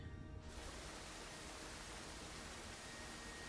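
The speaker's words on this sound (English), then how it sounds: "Instead it gave me spooky, scary water effect." A soft, continuous hiss like rushing water swells in after a brief moment and holds steady, faint and airy with an eerie, uniform texture, a water effect in the video game Dear Esther.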